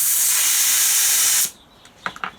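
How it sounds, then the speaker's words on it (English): A loud, steady hiss of air rushing out of a Honda CB250 motorcycle tire inflated to about 60 psi for about a second and a half, then cutting off abruptly, followed by a few faint clicks. "So I'm gonna let some of this bloody air out."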